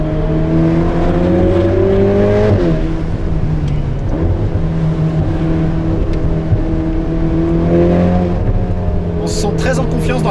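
A Ferrari Portofino's engine drones loud and close, dropping sharply at a gear shift and building again, with crackling pops near the end while someone talks over it.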